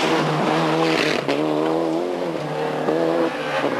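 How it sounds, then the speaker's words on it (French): A Mitsubishi rally car at the 1997 Rallye du Touquet roars close by, its engine screaming at high revs in a steady, loud drone with brief dips as it shifts, then pushing on. "il s'emparera de la 7e place devant l'autre Mitsubishi, celle d'Eddy Mercier."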